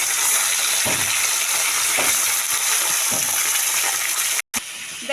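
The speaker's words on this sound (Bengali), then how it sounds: "আমি এবার বাকি মাছগুলো ভেজে নেব।" Fish pieces frying in hot oil, a steady loud sizzle that fills the clip with brief clatters of stirring and a short break near the end.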